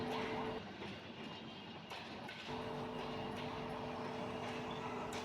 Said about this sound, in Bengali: আপনারা দেখতে পাচ্ছেন ট্রেন যাচ্ছে